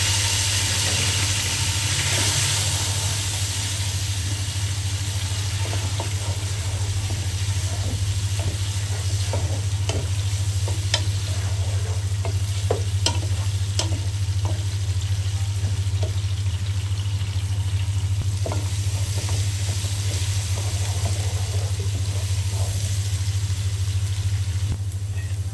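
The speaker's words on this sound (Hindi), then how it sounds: "प्याज को हम हल्का सा बिल्कुल फ्राई करेंगे" Onions frying lightly in a pot for chicken pulao give a steady, continuous sizzle, with scattered soft stirring clicks and a low constant hum beneath.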